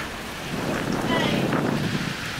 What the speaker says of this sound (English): We're getting some pretty good gusts.